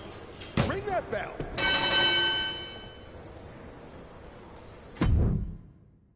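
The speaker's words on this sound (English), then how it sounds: "One, two, ring that bell." A wrestling ring bell clangs in WWE 2K25, a bright metallic strike with a long ringing decay, followed by a second heavy hit later, set against crowd and arena noise.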